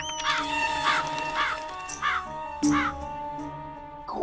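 A crow caws repeatedly, five or six harsh, rasping calls spaced about half a second apart over a steady background tone, fairly close and prominent.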